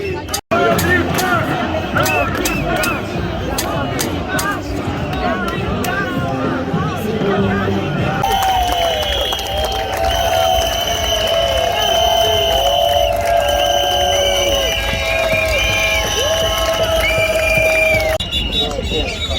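A large protest crowd in Milan, Italy, fills the air with a dense hubbub of voices and cheering, with whistles and shouts rising over the steady noise of the gathering.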